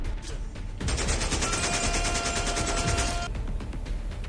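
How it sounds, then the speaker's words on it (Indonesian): Sustained burst of gunfire from blank rounds fired at child soldiers in a war film, a dense continuous volley lasting a few seconds, loud and close, then cutting off into a rumbling background. "menembakkan sebuah peluru hampa ke anak-anak itu"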